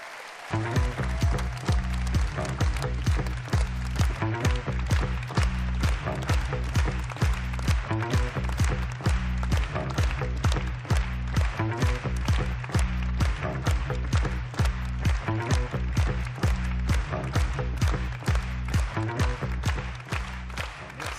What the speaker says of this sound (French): je vous demande d'applaudir très, très chaleureusement Bernard Cazeneuve.